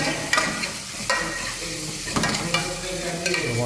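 Sliced onions sizzle in hot oil in a home kitchen pan, with a steady crackling fry broken by several loud scrapes and stirs of a utensil against the pan, close and without talk.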